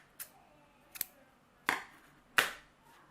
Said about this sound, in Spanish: Ahora cortamos la hebra,